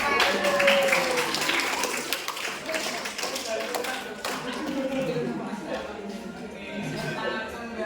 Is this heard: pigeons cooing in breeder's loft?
no